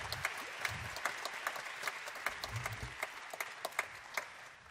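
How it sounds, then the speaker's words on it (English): Audience applause at a Christmas extravaganza performance, fairly faint and steady, with individual sharp claps standing out from the crowd's clapping. "Let's give them a big round of applause"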